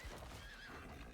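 Horses in a video game whinny and stamp, a brief high neigh sliding over soft hoof clatter in a dense, continuous game soundscape.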